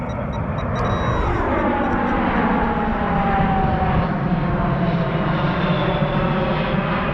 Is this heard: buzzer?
no